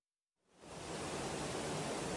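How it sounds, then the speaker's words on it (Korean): Rainwater from a typhoon pours like a waterfall down the stairs into a Tokyo subway station: a dense, loud, steady rushing roar that fades in from silence and then holds with no talk. "지하철역 안을 오가는 계단으로 빗물이 폭포수처럼 쏟아져 들어갑니다."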